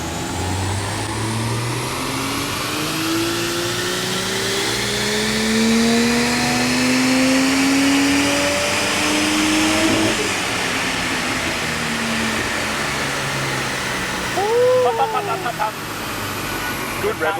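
A Ford engine in a Ferrari-titled build screams to high revs, its steady roar rising and holding near the limiter with a sustained whine, close and loud, ending in quick stuttering cuts.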